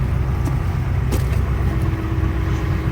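A car engine drones steadily from inside a moving vehicle on the way to collect a damaged pickup, a constant low road rumble with no speech over it.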